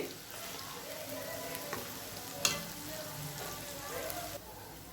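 Ginger and garlic sizzle in hot oil in a pan with a soft, continuous crackling hiss, quiet and steady with an occasional small pop, and a voice is faintly heard at times.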